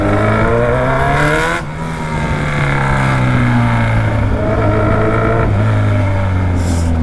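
A motorcycle fitted with a loud aftermarket exhaust rides in first gear, its deep engine drone holding steady and close with small shifts in pitch and a brief dip partway through.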